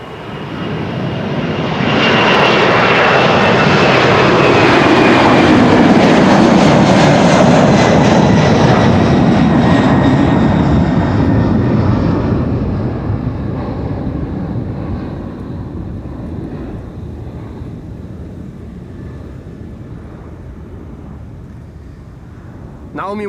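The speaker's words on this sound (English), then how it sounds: "United, once again with a 767. This is a 300 going to Washington," A United Boeing 767-300 jet airliner passes at Amsterdam Schiphol Airport, its engine roar rising quickly to a loud, sustained rumble and then slowly fading into the distance as it moves away.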